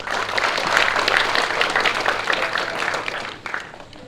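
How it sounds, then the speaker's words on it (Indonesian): An audience at a community event gives a burst of steady, moderately loud applause that continues throughout, then tapers slightly near the end. "Kita berikan tepuk tangan yang meriah atas penampilan orang dan dari perwakilan kelompok"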